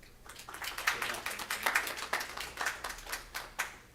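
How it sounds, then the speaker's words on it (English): Sparse, distinct handclaps from a small conference audience at a photography show's stage, individual claps clearly separated and fairly quiet, tapering off after a few seconds. "Ladies and gentlemen, round of applause real quick."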